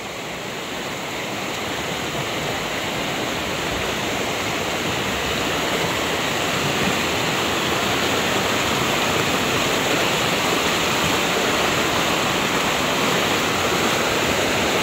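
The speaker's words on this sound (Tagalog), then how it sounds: "Yan po sa papong iyan ay malakas po ang agos." Strong current of a flowing stream where clothes are being rinsed, a steady dense rushing and splashing of water that stays loud and unbroken throughout, with no voices.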